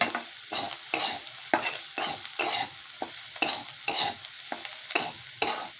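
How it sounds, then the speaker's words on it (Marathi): Egg and cauliflower bhurji with fresh coriander is stirred and fried in a hot pan. A steady sizzle runs under rhythmic scraping strokes of a spatula, close and clear, with no talking. "आपण ह्यामध्ये कोथंबीर टाकूया मस्त अशी परतून देऊ"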